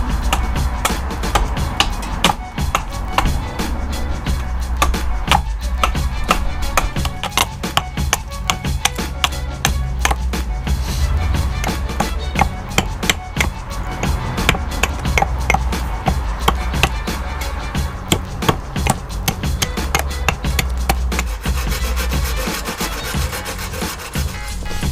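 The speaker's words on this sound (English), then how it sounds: "I'm going to use the saw and the axe to try and take off large quantities of wood in the handle and around the bowl" Hand saw and axe working green wood while roughing out the handle and bowl of a carved ladle, a steady dense run of rasping saw strokes and chopping knocks close up, continuous for the whole stretch with no talk.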